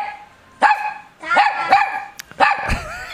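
A poodle barks three times in short bursts spaced about a second apart, each a sharp, high, yappy bark, loud and close, with no talking.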